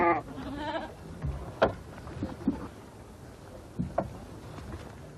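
Goats kept for meat in a Taklamakán desert village bleat in a short wavering call at the start, followed by several brief scattered bleats and bumps over a quiet background.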